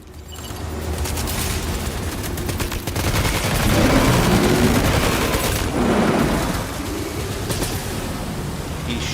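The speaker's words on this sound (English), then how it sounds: "He's shooting at me" Gunfire in the video game Death Stranding 2, a dense, loud, continuous clatter of shots and rumbling blasts that swells and eases across the scene with no voices.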